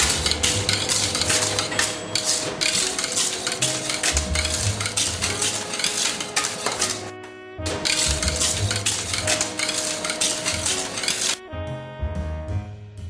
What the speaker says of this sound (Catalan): Barregem la nata i la pasta bomba.